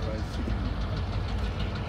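A Kansas City Southern freight train engine hauling tankers rumbles steadily up close, a loud continuous low drone with mechanical clatter throughout.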